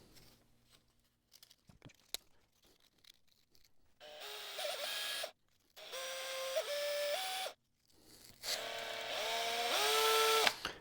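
An abrasive tool with 320 grit sandpaper works on a Nordmende Othello Z 320 radio, sounding as several separate bursts of whirring with rising and falling pitch, split by short pauses.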